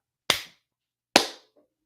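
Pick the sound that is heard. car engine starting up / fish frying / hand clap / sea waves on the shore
hand clap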